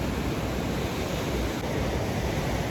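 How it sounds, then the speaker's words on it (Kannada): Sea waves wash onto a quiet beach, making a steady broadband roar of surf heard at a constant level for a few seconds, with no voices. "ಅಲೆ ಸೌಂಡು, ನೀರು ಸೌಂಡು."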